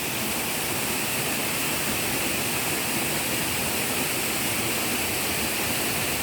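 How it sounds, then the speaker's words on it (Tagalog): Mountain stream rushing over rocks, a steady dense broadband roar of water, close and uniform throughout with no voices. "Ayan yung batis"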